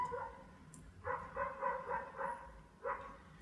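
A dog barks in a short burst of five or six evenly spaced barks, followed by a pause and one more bark, somewhat distant and moderately loud, with no one speaking.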